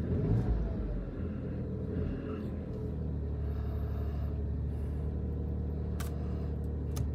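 A Tata car's odd-cylinder engine idling, heard from inside the cabin as a steady low rumble and vibrating drone, close and continuous with no speech over it.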